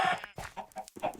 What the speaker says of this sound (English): I have to get rid of all of these gosh darn chickens